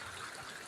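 Strong floodwater rushes past in a steady, broadband roar, close and continuous with no break.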